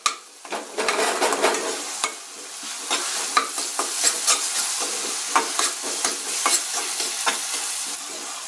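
A slit green chili frying in sambar tempering oil gives a close, busy sizzle with repeated sharp spatters and pops, plus light stirring clatter, and no voices.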